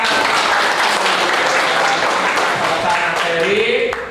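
A group at a university teacher-training session applauds in a loud, close burst of mixed clapping that holds steady before tapering off, with voices rising underneath toward the end.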